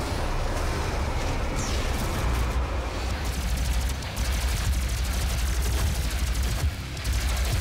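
Plasma rifle fire in Doom 2016, a continuous rapid stream of shots over a loud rumbling backdrop, sustained across the whole stretch with brief pauses.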